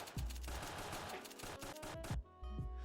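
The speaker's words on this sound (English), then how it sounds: "shotguns have really high delay in between each shot where you can't shoot the same gun until that delay is over" Shotgun blasts in a video game, fired in quick succession using weapon switches: several loud, booming shots with heavy low thumps follow one another closely, each with a short crackling tail, up close and with no voices.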